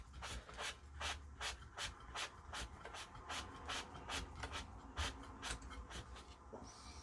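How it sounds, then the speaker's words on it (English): Repeated rhythmic rasping strokes of a sanding block rubbing a part during a Thorn 8940 VHS recorder restoration, about a dozen close, even back-and-forth scrapes with no talk. "Use this piece of sanding block to do this."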